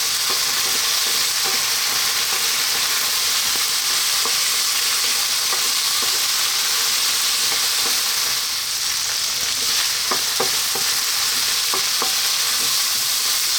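Potatoes fry in a pan on lively heat for a chickpea potato curry, a continuous loud sizzle with occasional scraping stirs and small pops throughout, no voices.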